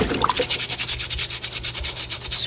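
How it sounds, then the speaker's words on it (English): A vegetable brush scrubs raw carrots in quick, even back-and-forth strokes, a bristly rasping rhythm close up and fairly loud, with no voices. "using my vegetable brush, I'm just going to scrub everything."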